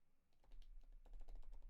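Quiet, quick keystrokes on a computer keyboard, a short burst of soft clicks tapping out a few characters in a near and otherwise still room.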